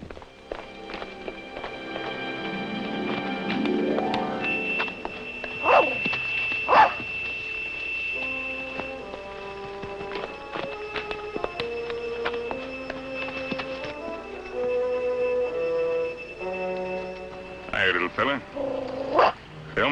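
A small dog barks a few times amid galloping horse hooves and dramatic orchestral music in a 1958 Western TV episode, the yaps brief and partly masked by the score.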